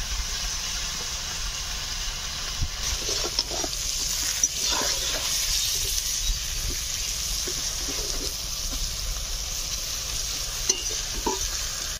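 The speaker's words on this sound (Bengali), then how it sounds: "সব বেগুন ভাজা হচ্ছে।" Eggplant slices fry in hot oil seasoned with salt and turmeric. A continuous close sizzle runs throughout, with light scraping stir strokes scattered across it.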